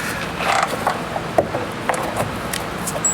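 A wrench creaks and ratchets in short, uneven bursts, tightening the rear bolts of a truck with a big washer fitted. The clicks are close and fairly loud, with no talking.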